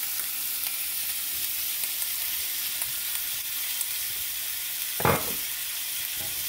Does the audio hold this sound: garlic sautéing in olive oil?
yes